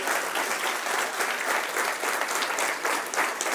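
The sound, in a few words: church congregation applauding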